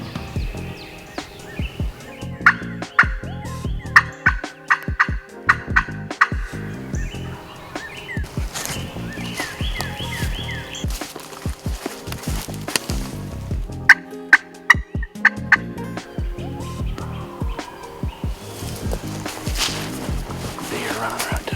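A wild turkey gobbles during a Michigan turkey hunt, with several loud, sharp gobbles rising above a busy, cluttered background and hunters talking quietly nearby.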